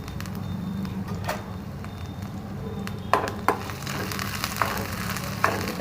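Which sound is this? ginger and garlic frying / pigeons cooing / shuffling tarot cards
ginger and garlic frying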